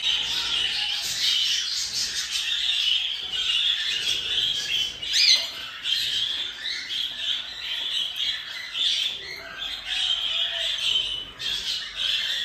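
Caged birds being boxed for transport squawk and chirp continuously at close range, a dense, busy chatter of calls with no talking over it.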